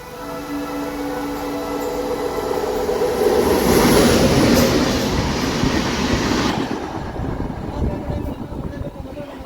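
A train rumbles past close by, a broad roaring wash with rhythmic clatter of wheels on the tracks that swells and then slowly eases.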